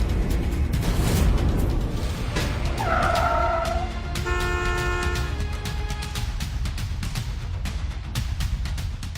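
A car horn sounds in two short honks over steady traffic and engine noise outdoors, with a rumbling vehicle nearby.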